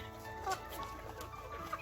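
A hen clucks in short, close bursts on a small backyard poultry setup, a few brief calls over a steady farmyard background with no talking.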